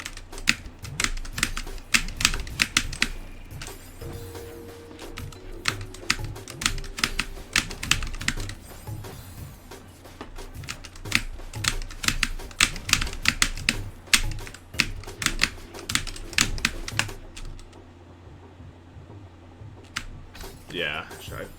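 Computer keyboard arrow keys tapped rapidly in bursts during gameplay, close clicking with a steady low hum behind and faint speech in places.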